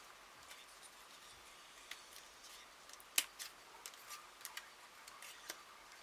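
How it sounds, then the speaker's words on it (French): Scissors cut through card for a handmade shaker card, producing quiet, scattered snips and clicks at an irregular pace, with one sharper snip standing out, and no talking. "je vais finir en ciseaux là"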